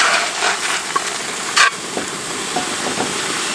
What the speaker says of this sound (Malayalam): അതിലേക്ക് നമുക്ക് ചിക്കൻ ചേർക്കാം.